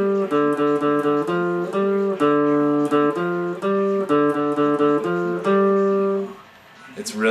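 Electric guitar plays a slow filler riff from Sublime's April 26, 1992, a run of sustained single notes and double-stops in a steady pulse, close and alone, ending with a brief noisy scrape as the playing stops.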